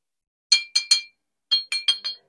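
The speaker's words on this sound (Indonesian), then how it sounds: "kalau dijatuhkan ke lantai ini suaranya saya yakin sama dengan iron meteorit impor lainnya" Iron meteorite dropped onto a floor, giving two bursts of small bright metallic clinks, three then four quick bounces, close and fairly quiet in otherwise silent surroundings.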